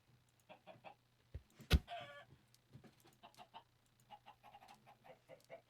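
Chickens in Minecraft clucking in a quiet scene: a scatter of short, soft clucks spread throughout, with one louder, sharper burst near the middle.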